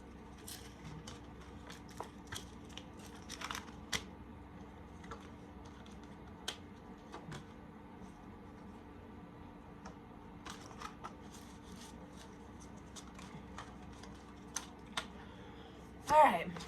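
Tarot cards being shuffled and organized on a table give sparse, scattered soft taps and flicks, with a louder rustling burst of handling near the end.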